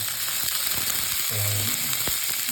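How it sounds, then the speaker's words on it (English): Onion frying in oil in a pan with dry chili for a blue job fish curry, a steady close sizzle with a louder burst of hissing midway and a sharp clatter near the end. "And we are putting now the onion."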